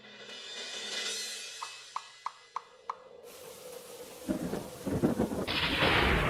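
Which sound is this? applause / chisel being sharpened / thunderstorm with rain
thunderstorm with rain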